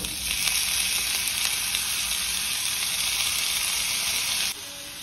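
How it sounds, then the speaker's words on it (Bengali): Mushrooms, ginger, onion, garlic and capsicum fry in a pan with a steady, loud, even sizzle that drops slightly just before the end. "এরপর এগুলোকে হালকা করে একটু ভেজে নেব"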